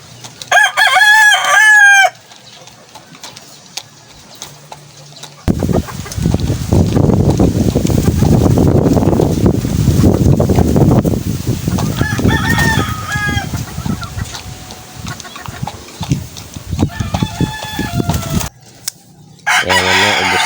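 Chickens cluck and a rooster crows repeatedly over a steady, busy farmyard din, with louder bursts of crowing near the start and middle.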